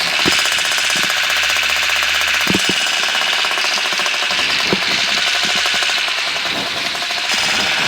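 Paramotor engine idling to warm up with the choke off, a loud continuous close buzzing drone with occasional knocks and thumps, steady throughout.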